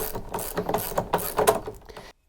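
A wrench turns on the negative terminal nut of a battery in a solar charge controller setup, a close series of rapid ratcheting clicks and metallic scrapes that stop abruptly.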